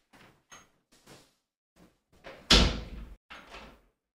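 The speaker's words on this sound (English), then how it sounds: "I'm gonna close the door on my way out" A door is closed with one loud, sharp slam about midway through. Several softer bumps and shuffling sounds come before it, and faint movement follows.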